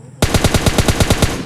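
Loud, close automatic gunfire in the PUBG Lite battle royale video game: a rapid, even burst of about a dozen shots fired alone without talk.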